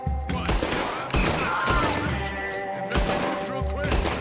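Rapid gunfire rattles through a Red Dead Redemption 2 shootout, with dense bursts and sharp repeated shots filling the scene, loud and continuous with brief pauses, while a voice speaks faintly underneath.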